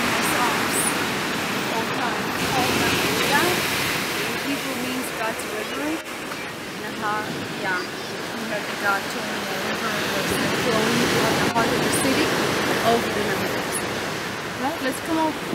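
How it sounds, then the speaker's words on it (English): Ocean waves washing onto a beach at Nahariya as a steady, broad roar with gentle swells, with faint distant sounds scattered through it. "And as you can see, the ocean."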